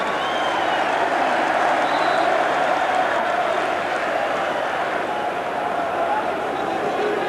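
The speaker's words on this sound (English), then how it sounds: "you can't but help applaud it" Dense football crowd at Highbury during Arsenal against Barnsley, 1997-98, applauding and cheering a goal by Bergkamp; a steady, loud roar of clapping and voices fills the whole stretch with no pauses.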